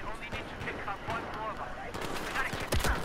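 Rapid gunfire bursts from an online shooter video game match, several quick cracks clustered near the end and blended into busy game sound effects, with a player's voice talking over the action.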